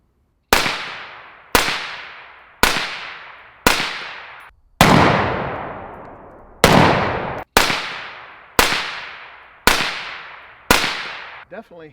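Black Anchor Tactical Nautilus 556 rifle firing about ten loud, sharp single shots at a steady, deliberate pace, each with a ringing decay, outdoors and close.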